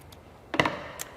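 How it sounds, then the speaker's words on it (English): Scissors cutting strips from old textile bed sheets, a few crisp snips and fabric rustles close by, with a faint tap before and after. "I'll cut out some strips."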